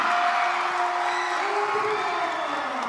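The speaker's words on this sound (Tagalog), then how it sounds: "Crowd coming alive here." Arena crowd at an MPBL basketball division finals game between Abra and Pangasinan, a loud continuous roar of cheering and whoops with a sustained rising tone, filling the space throughout.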